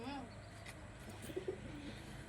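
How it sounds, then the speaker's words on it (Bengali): Pigeons coo inside a loft, a few soft, low, rounded coos spread across the moment. They are faint and distant against a quiet background hum. "বুনো পায়রা খোপে ঢুকে ঘুরে বেড়াচ্ছে"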